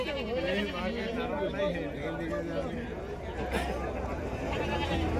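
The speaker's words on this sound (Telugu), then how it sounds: "చాలా మేకపోతులు ఉన్నాయి ఇవన్నీ కూడా నాగపూర్ మేకపోతులు అండి" Nagpur male goats bleat with wavering cries at a goat market in Chillakallu, heard under close people talking and background chatter.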